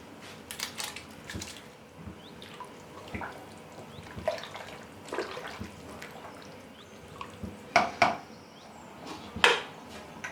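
Water drips and trickles in brief splashes as soaked lentils are drained for beef haleem in a kitchen, with a couple of louder pours near the end over a quiet background.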